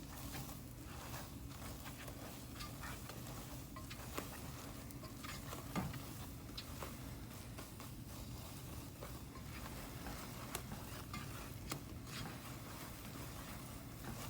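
A spoon stirs mini marshmallows melting into one sticky clump in a pot, giving faint soft scraping and gentle sizzling-like crackle with scattered small clicks throughout.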